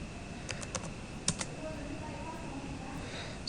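A handful of keypresses on a computer keyboard while a password is entered, sparse soft clicks in two small bursts over a quiet background hum.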